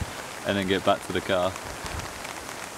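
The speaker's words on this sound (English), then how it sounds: "Getting very windy, much more rainy." Heavy rain and strong wind outdoors during a foraging trip, a steady rushing hiss of rain with gusty roar underneath while someone speaks briefly up close.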